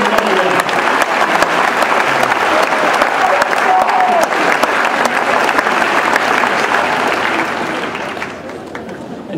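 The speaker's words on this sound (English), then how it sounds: "let's give them a round of applause." Strong, continuous applause and cheering from a farewell-event audience honouring parents, full and steady for several seconds before easing slightly at the close.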